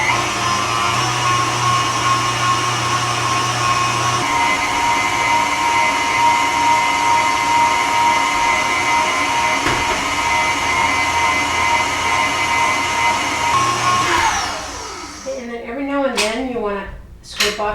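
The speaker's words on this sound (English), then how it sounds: "And you can use a hand blender." A hand blender whips shea butter into body butter in a bowl, giving a steady, loud motorized whine with a brief pitch shift partway through. The motor then cuts off near the end, leaving faint scraping sounds.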